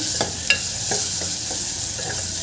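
Chopped tomatoes sauté in a pan with a close, steady sizzle, and a spatula scrapes and taps several times over the short stretch.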